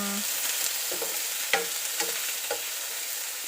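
Tomatoes and onions stir-fried together in a pan while cooking squash shoots with egg, a steady sizzle with scrapes and taps of a utensil against the pan at intervals, no voices.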